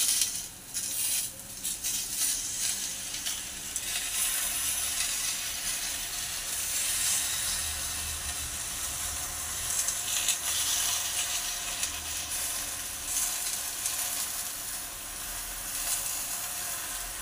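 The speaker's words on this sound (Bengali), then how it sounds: "আমগুলো একটু ভাজা ভাজা হয়ে গেছে। এইবার গুড় দিচ্ছি, আখের গুড়" Mango pieces frying in a pan as sugarcane jaggery goes in, a steady close sizzle and hiss running throughout with faint scraping, no voices.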